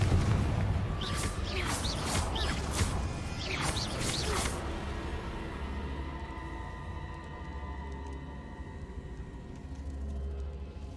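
A Confringo blasting curse explodes in Hogwarts Legacy, several sharp booming cracks in the first few seconds followed by a low, lingering rumble and hum.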